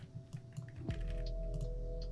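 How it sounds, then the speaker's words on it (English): Gibberish typed on a computer keyboard in a game's chat message app, faint scattered key clicks over a steady low hum and a sustained tone, with no talking. "I'm just typing a bunch of gibberish and then you can send it."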